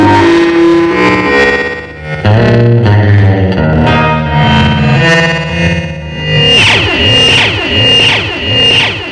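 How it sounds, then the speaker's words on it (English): Electric guitar runs through a delay pedal set to high feedback and a very short delay time, producing dense, loud, metallic repeating echoes that pile up and warble, with no talk. "a lot of feedback and super tight in the delay time"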